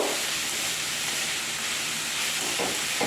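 Dried red chillies and mustard seeds hit hot oil in a home kitchen pan, giving a steady, close broadband sizzle and hiss that runs unbroken throughout, with no talking.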